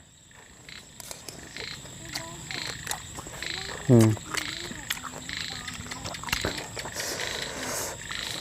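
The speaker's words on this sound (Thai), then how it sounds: "เสียงกบเสียงเขียดกำลังมา" Frogs croak repeatedly in a rice field at evening, one call rising loudly close by amid a steady chorus of fainter croaks and insects, while a person murmurs briefly.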